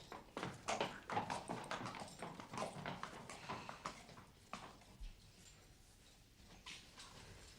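Regular clip-clop of horse hooves on a hard surface, moderately close, with a steady walking rhythm that loosens and thins out toward the end.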